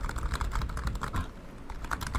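Fast typing on a Sades Sabre TKL gaming keyboard, close up, gives dense, fairly soft, office-like clacks in quick uneven bursts with brief pauses, and no voices.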